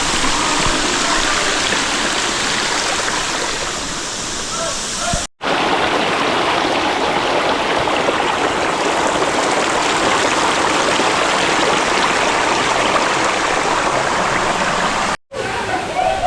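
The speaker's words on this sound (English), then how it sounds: "this is how Sheldrick Waterfalls looks like" Sheldrick Waterfalls in the Shimba Hills of Kenya, a loud continuous roar of falling water heard close up, broken by two brief silent cuts.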